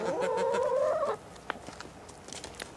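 A hen in an off-grid chicken run gives a drawn-out, wavering cluck up close, then quiet scratching and soft rustling sounds follow with a few faint clucks in the background.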